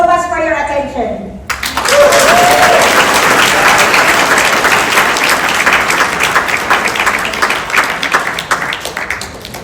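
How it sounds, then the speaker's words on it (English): Loud, dense audience applause from a crowd at a Conexxion Momentum event, steady and sustained for about eight seconds after a short stretch of speech-like sound, with busy clapping texture throughout. "another round of applause for Lyra Capco"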